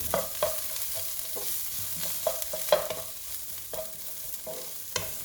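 Onions, green chilies and crushed tempering spices fry in oil over medium heat for a Sri Lankan crab curry, giving a steady sizzle broken by occasional stirring scrapes and light spoon clinks, with no talking.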